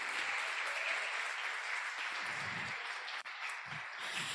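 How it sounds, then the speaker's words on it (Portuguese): A church congregation at a women's worship service gives sustained, even applause, a full continuous rush of many hands clapping without pause. "Aplauda Jesus pela vida da Dete"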